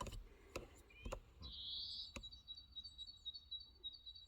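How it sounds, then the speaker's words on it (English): Birds singing outdoors on a warm day in a quiet garden, a thin high whistling song running steadily with a few chirps, faint and fairly distant over a few sharp nearby clicks. "Listen to the birds."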